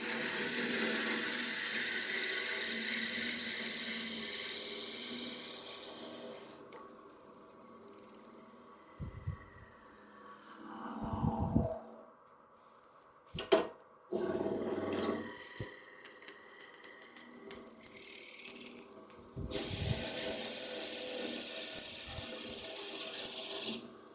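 A drill bores into palmwood turning on a lathe at about 1,000 RPM, giving high, thin whining squeals in two bursts, the longer near the end, between quieter stretches of low rumble and a few knocks.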